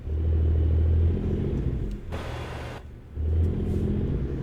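Simulated truck engine in American Truck Simulator: a steady low, throaty drone that swells, dips to a thinner hum for a second or so, then swells back again, heard alone without talk.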